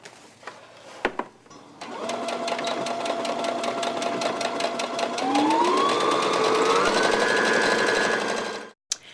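A sewing machine stitches along a fabric edge in a rapid, even run of mechanical ticks with a whirring motor. The motor's pitch rises midway as it speeds up, then the machine stops abruptly.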